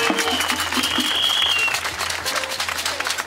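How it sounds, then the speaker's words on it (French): Outdoor crowd applause during a forest march, continuous clapping with a few whistles and murmured voices mixed in, fairly loud and steady before easing slightly. "Les applaudissements pour Françoise."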